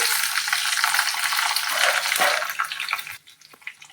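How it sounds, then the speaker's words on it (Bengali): Cashews and raisins frying in a hot pan for a Basanti pulao, giving a steady loud sizzle with stirring scrapes that fades and thins out near the end. "এতে একটু দিয়ে দিচ্ছি, ভেজে নিচ্ছি"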